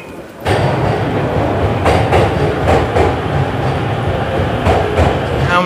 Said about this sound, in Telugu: Bullet train.